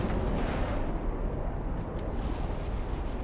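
Naval gunfire in Ultimate Admiral: Dreadnoughts, a light cruiser trading shots with battleships: a dense, continuous roar of distant shell blasts and rumbling impacts blending into one heavy, steady wall of low booming noise.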